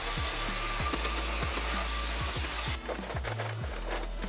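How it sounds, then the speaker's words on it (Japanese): A household vacuum cleaner runs with a steady low motor hum and airy whine while knocking and bumping sounds recur throughout; the tone shifts partway as the nozzle moves. "一旦掃除機かけます"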